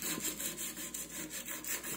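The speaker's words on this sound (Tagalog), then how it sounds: "Gagamit tayo ng number 120 na liha o sandpaper." Rust is rubbed off a metal food warmer with 120-grit sandpaper, giving a steady, close scratchy rasp in repeated back-and-forth strokes with no talk.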